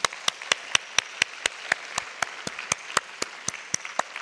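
A church congregation at a Wednesday service gives encouraging applause to the youth after their praise singing. The claps come as a sparse, steady rhythm, about four per second and moderately close, with no talking over them.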